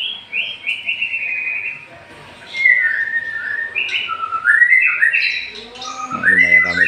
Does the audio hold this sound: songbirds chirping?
yes